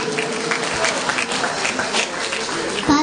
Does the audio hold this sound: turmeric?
no